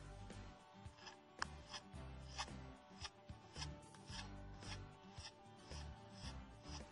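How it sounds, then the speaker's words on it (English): A scraper roughs up the rubber of a bicycle inner tube before patching, making quiet, close, rhythmic rasping strokes, about two per second, back and forth. "take your scraper and rough up the area"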